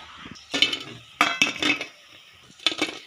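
Fried soya chunks being lifted out of a pan with a metal utensil, giving three short bursts of scraping and clinking separated by brief pauses, close and moderately loud.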